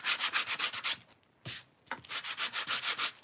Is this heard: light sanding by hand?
yes